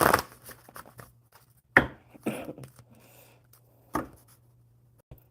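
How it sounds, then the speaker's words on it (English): Someone gives a deck of cards a few shuffles at home: brief crisp riffle bursts and taps spaced over several seconds, close and moderately quiet, against a low steady hum. "One more good shuffle for Susan."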